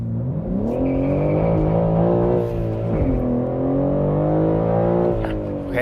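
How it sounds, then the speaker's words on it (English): A 2021 Lexus RC F Track Edition launching under manual launch control: a loud, close engine note climbs steadily in pitch, eases briefly near the middle, then surges again through continuous hard acceleration. "that's really nice for a manual launch"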